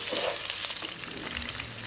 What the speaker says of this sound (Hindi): तेज आंच पर 5 मिनट के लिए भूनूंगी।